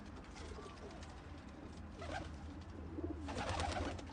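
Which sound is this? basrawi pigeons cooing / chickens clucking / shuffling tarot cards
basrawi pigeons cooing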